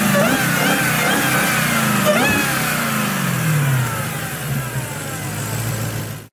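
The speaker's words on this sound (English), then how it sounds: "With its menacing look and thunderous exhaust note, the Hellcat commands attention on the road and track alike." A Dodge Challenger Hellcat V8 muscle car in Forza Horizon 4 revs loudly and close, the engine note rising and falling in sweeps before easing toward a lower drone.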